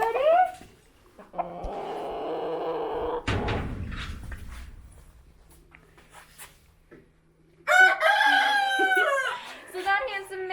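Hens and a rooster in an animal sanctuary enclosure: soft clucking and a strained call at the start, a door or gate clatter, then a loud, close crowing burst near the end, with quieter clucks after.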